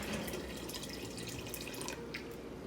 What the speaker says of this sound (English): make sure that the lentils have a good, say, inch of water on top of them